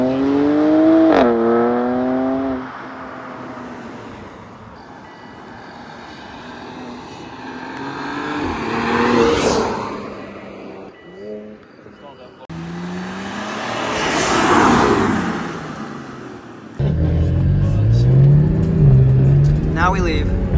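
BMW 335is engine revving and accelerating hard, loud and close, with rising and falling engine tones across several bursts and people talking over it.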